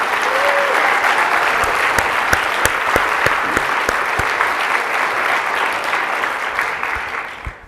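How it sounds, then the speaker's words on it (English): Applause from the audience at Hillsboro's 2026 State of the City address, honoring city staff: sustained, dense clapping that holds steady for several seconds, with a few sharper individual claps standing out, then tapers slightly at the end. "could we give them a round of applause too?"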